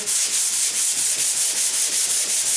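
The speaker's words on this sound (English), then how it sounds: "using the big paddle and 100 grit sandpaper" A door jamb being sanded with a big sanding paddle and 100-grit sandpaper, making loud, close, rhythmic back-and-forth rasping strokes in a quick, even cadence with nothing else audible.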